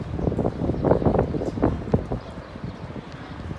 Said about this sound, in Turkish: Bayağı bir rüzgar esiyor.